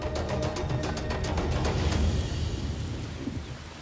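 Tropical rain falls during Africa's wet season, with a deep roll of thunder rumbling and slowly fading over a steady wash of rainfall.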